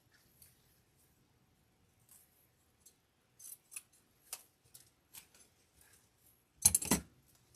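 Scissors snipping ribbon for a blue and yellow summer grapevine wreath: a string of quiet, separate cuts, then one louder, closer crunching snip near the end, with no talking.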